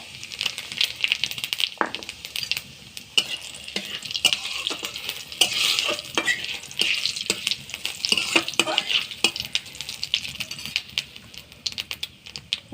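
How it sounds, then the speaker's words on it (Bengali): Whole cumin seeds and a dried red chili crackle in hot oil in a kadai, a dense run of sharp popping clicks and light sizzle with occasional stirring, close and steady throughout. "কড়াইতে তেল গরম হয়ে গেছে, ফোড়ন দিয়ে দেবো একটা শুকনো লঙ্কা আর গোটা জিরে"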